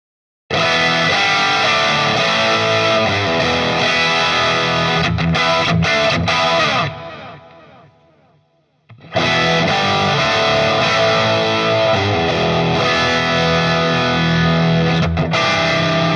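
A loud, distorted electric guitar through a Marshall Origin 20 amplifier plays steadily, fades out briefly near the middle, then returns at full volume with the same gritty, saturated tone.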